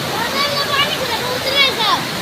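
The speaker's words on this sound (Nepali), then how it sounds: "ल झरना नमस्ते झरना। धनकुटाको नमस्ते झरना।" Namaste Waterfall near Dhankuta in Nepal, fed by a stream flowing down from above, makes a constant broad rush of falling water throughout, with people chatting over it at close range.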